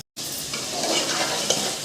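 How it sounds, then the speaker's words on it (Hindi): Chicken frying in a pan for chicken karahi, a loud, close, continuous sizzle that starts abruptly after a brief silence, with a faint tap midway. "अच्छी तरह भून लिया चिकन को, अच्छी तरह मैंने भून लिया।"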